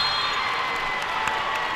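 Steady roar of a large crowd cheering in a high school basketball gym during a boys' regional semifinal, a broad continuous wash of voices with a brief louder burst near the end.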